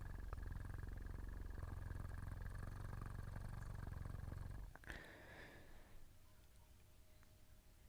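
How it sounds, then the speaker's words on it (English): A domestic cat purrs on a person's lap, a close, low, continuous rumbling purr for about five seconds before it fades into quiet room noise. "You get a pass on my lap, good sir, because you are actually a sweet cat."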